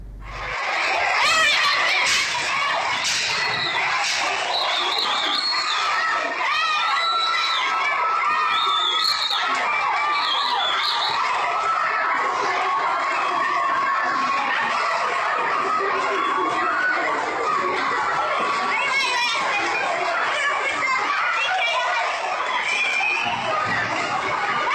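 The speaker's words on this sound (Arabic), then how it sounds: "خرجت الطالبات فيها للتعبير عن رفضهن لفرض تدريس ملازم الهالك حسين الحوثي وترديد صرخة الموت التي ترفعها الجماعة شعارا لها" A large crowd of female students protests in Sanaa, a dense, continuous roar of shouting and chanting voices that stays loud and sustained throughout.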